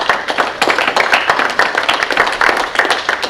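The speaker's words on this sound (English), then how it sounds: "I think we should give him another round of applause." Close, uneven clapping from a small group at a Rotary Club meeting, brisk and continuous for a few seconds.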